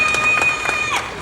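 A double yellow-headed Amazon parrot mimics applause and cheering with a quick patter of clap-like bursts and a thin whistled tone, close and lively, all in under two seconds.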